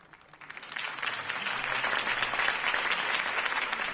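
A crowd in a video game breaks into sustained applause, clapping swelling quickly after a quiet start and holding steady and dense.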